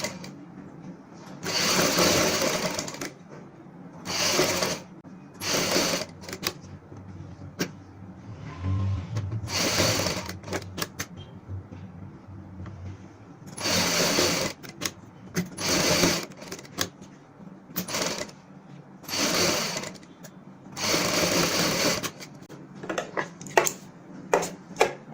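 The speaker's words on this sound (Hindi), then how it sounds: "अब मैं आपको इस डिजाइन की स्टिचिंग दिखाऊंगा।" A sewing machine stitches a kameez high neckline backed with buckram, running in a series of close, rapid bursts separated by short pauses.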